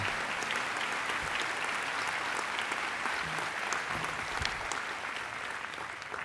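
A seated audience at an honorary doctor of laws award ceremony applauds warmly, a continuous wash of many hands clapping at steady volume throughout.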